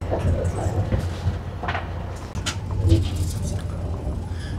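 Interior of a Russian double-decker train on the Moscow to Saint Petersburg line, with a steady low rumble and faint rail clatter running throughout and a soft bump partway, with no talking.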